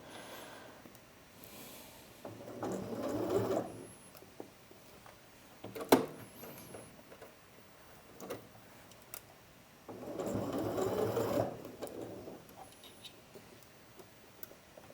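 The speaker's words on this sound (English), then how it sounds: "I'm going to make sure these gathers are nice and evenly distributed as I sew over them." A sewing machine stitches over gathered fabric in two separate bursts of steady, close mechanical whirring, with faint clicks and handling noises in the quiet pauses between them.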